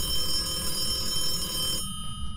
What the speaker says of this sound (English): Phone's ringing in here